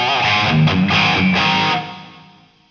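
A thick, heavily distorted electric guitar played through a Marshall AFD signature amp head plays a short chordal phrase, then lets the last chord ring and slowly fade out.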